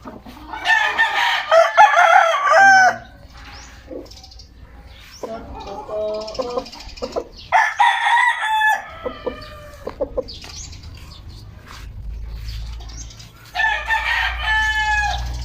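Roosters crow repeatedly with long, loud calls, mixed with hens clucking nearby; the crowing comes in bursts with quieter farmyard sounds between.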